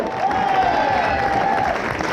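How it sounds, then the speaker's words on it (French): An audience claps continuously for about two seconds, a dense, even wash of applause with faint crowd noise beneath it. "on peut les applaudir bien fort"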